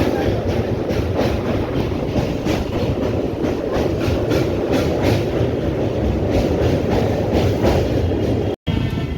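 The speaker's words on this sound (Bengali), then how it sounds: "বালি ঘাট ঢুকছে আমাদের ট্রেন" A train rolling into Bally Ghat station on the Tarakeswar to Dakshineswar line, heard from inside as a loud, continuous rumble with rhythmic clickety-clack of wheels over rail joints, steady throughout with a brief dropout near the end.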